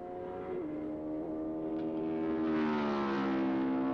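A 1977 Kawasaki KZ650 motorcycle engine droning steadily, its pitch dipping and then rising as it pulls away at the start of a 24-hour endurance record ride, fairly loud and with no voices.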